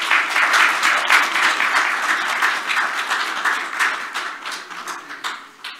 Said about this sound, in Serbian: ja vas molim sada da ih nagradimo jednim aplauzom za početak